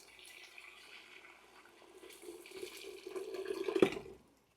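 Hot water poured into Sindhi kadhi batter while a whisk stirs it, a steady splashing pour that swells louder toward the end before stopping abruptly.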